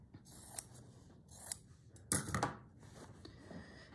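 Fabric being snipped with scissors during a slow-stitch craft session, with a few quiet, separate cuts and one louder crisp snip near the middle against a hushed room.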